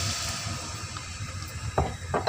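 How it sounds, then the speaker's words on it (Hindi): A glass of water is poured into a pot of ghee while syrup is made for mutanjan sweet rice, a steady close pouring wash ending in a few louder splashes. "और अब इसमें मैं ये 1 गिलास पानी शामिल कर रही हूँ।"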